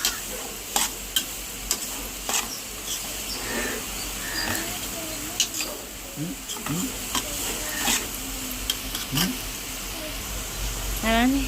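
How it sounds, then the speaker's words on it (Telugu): A spoon stirs masala and grated carrot in hot frying oil, giving repeated scraping strokes and clinks over a steady sizzle, close and moderately loud, with a voice talking at times. "దాన్ని ఆయిల్లో కలిసేటట్టు బాగా కలిదిప్పాను"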